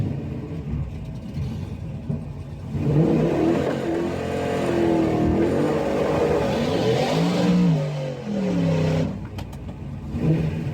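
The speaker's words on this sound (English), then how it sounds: "Up next is this green Camaro." A green Camaro drag car launches hard at a drag strip, a loud rising engine roar building after a quieter idle, holding strong for several seconds and then dropping away into distant rumble.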